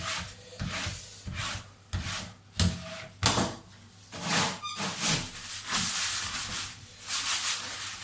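Wiping a wooden cutting board during smoked salmon preparation, with repeated rubbing and scraping strokes, close and fairly loud, in irregular bursts across the whole stretch.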